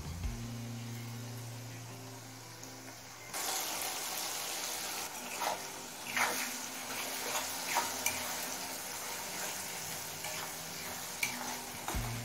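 Turmeric, chili powder and salt being sautéed with ground mustard paste in a pan: a quiet stretch of low hum, then a steady loud sizzle with repeated scraping stirs and spoon clicks, no talk.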